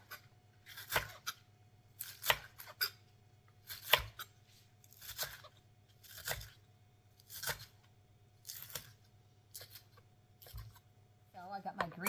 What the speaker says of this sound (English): I'll just dice these all up.